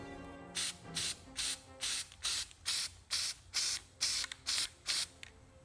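A spray can lays a wet coat of paint on a wheel in about ten short, even hissing bursts with brief gaps between them, close to the mic and with no talk.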